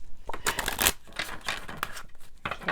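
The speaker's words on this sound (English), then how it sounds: "We're so close to having the decks shuffled." Crisp riffling and papery slapping of tarot card decks being shuffled in several bursts, close up, with short pauses between.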